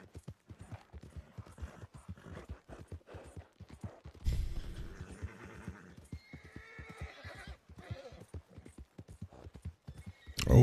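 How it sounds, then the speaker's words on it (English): Horse in a western video game clopping along in a steady hoof rhythm, breaking into a loud neigh midway, with a further burst of sound at the end. "Oh, hush your bickering horse."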